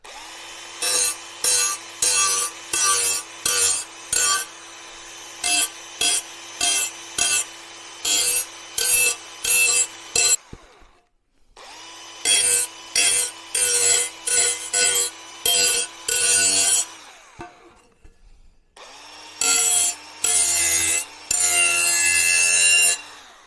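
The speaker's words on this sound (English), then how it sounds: "I'm just going to take the burrs off the edge." Hand deburring the edge of a metal piece with a file in a shed workshop, rhythmic rasping strokes in quick bursts, loud and close, with two short pauses between sets of strokes.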